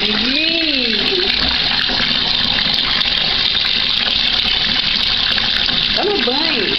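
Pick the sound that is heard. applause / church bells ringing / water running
water running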